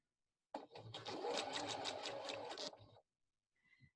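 A sewing machine stitches a high-top sneaker in one quick, close burst of rapid chattering lasting about two seconds, then stops, followed by faint clicks.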